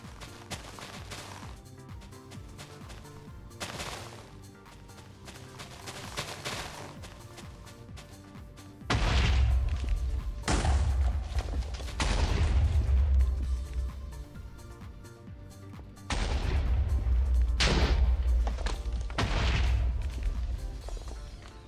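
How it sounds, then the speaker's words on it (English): Video game explosions boom repeatedly in deep, heavy bursts, coming in clusters with a louder, denser stretch in the middle and another near the end, over a constant background bed. "What's exploding, chat?"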